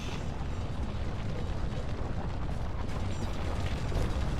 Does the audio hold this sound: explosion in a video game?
yes